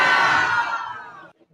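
A crowd at a live event shouting and cheering together in one loud burst that fades away over about a second and a half, ending in near silence.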